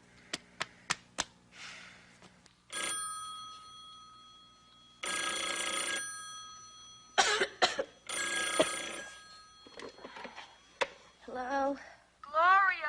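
A telephone rings in a quiet room, an old-style bell sounding in several long bursts, with a cough, sighs and brief voices between the rings.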